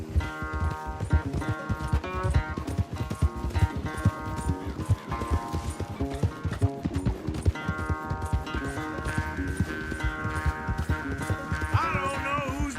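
A horse gallops in a race in Red Dead Redemption 2, its hooves pounding in a quick, steady rhythm close by, with musical tones layered over the hoofbeats.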